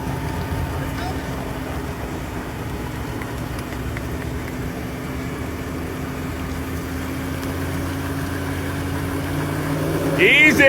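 An old Land Rover engine drones steadily while driving off-road, its low hum swelling toward the end as people talk over it.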